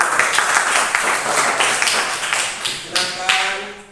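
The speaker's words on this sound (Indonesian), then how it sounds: "silakan dulu tepuk tangan untuk kelompok 2 dulu" A group claps for a presenting team at a classroom session, with a dense wash of handclaps running throughout, fairly close and steady, with a few sharper slaps near the end.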